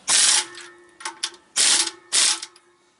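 A socket wrench ratchets on a bolt of a big truck's clutch, with several close, crisp bursts of rapid clicking separated by short pauses and no talk.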